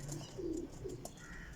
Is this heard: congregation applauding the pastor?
no